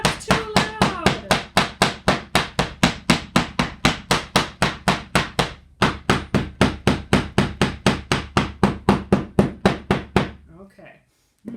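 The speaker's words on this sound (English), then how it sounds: "Now I'm all done with the pounding part." A hammer pounds flowers onto fabric laid on wood to make pigment prints, a rapid run of sharp, close, evenly spaced blows that pauses briefly, resumes and then stops.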